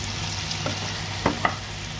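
Chicken sambal with freshly added chili fries in a pan, a constant loud sizzle with a couple of brief scraping stirs partway through.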